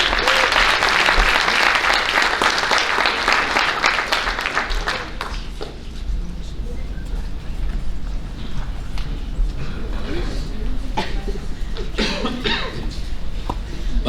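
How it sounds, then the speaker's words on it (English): Sustained crowd applause at a high school athletic banquet honoring the MVP, dense clapping that thins into scattered claps with a few coughs and murmurs. "Let's give these ladies one more round of applause."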